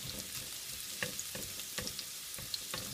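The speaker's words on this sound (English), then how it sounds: "while that's frying away slowly" A Madras curry base frying slowly in a pan for a takeaway-style curry, a steady gentle sizzle with occasional sharper crackles and stirring scrapes, close and alone without talk.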